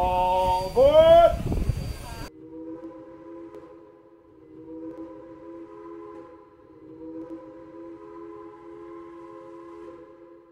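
A train departing the station on the Strasbourg Railroad gives a long sustained whistle or horn blast with steady tonal chords, heard clearly after a brief burst of voice at the start.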